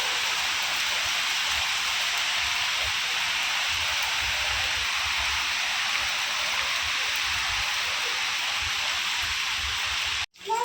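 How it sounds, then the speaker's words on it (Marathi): Steady, dense rain falls outdoors in a continuous even hiss at moderate loudness, with no talk, cutting off abruptly near the end. "इकडं पाऊस आलेला आहे"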